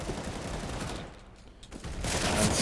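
Pistol gunfire during a competitive CS:GO match on the Train map at a pro tournament, with a rapid burst of shots, a brief lull, then more dense firing.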